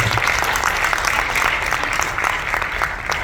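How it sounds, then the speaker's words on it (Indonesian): Applause from an audience at an event: dense, steady clapping from many hands fills the whole stretch, close and loud, with no break or voice standing out above it. "Ya, tepuk tangan."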